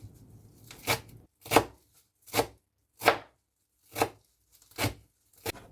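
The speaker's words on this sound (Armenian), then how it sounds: "Մաղադանոցն էլ եմ մանր կտրատում։" Parsley being finely chopped with a knife on a board, seven crisp, close, evenly spaced chops in a slow rhythm, with no talking.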